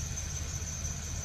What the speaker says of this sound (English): Definitely hear that belt screeching.